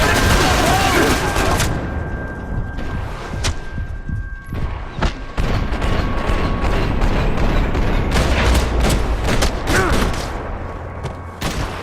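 Gunfire and heavy thumps from the video game Max Payne 3, a dense, loud stream of shots and booms running throughout with brief gaps, mixed with in-game voices and music.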